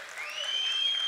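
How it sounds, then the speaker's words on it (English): A crowd at a UNC political event in Trinidad applauds a candidate for Toco–Sangre Grande, a short burst of clapping that swells and holds, mixed with a thin ringing tone. "A round of applause for the man, UNC candidate for Toko Sandy Grande."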